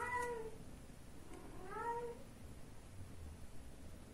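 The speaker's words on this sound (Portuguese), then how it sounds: "Tem um gato do vizinho na minha porta." A neighbour's cat meows twice at a front door, two clear drawn-out cries about a second and a half apart, moderately near against a quiet indoor hum.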